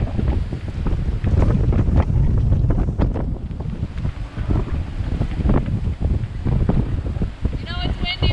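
Strong gusts buffet the microphone in heavy, irregular roars, with a voice briefly audible near the end.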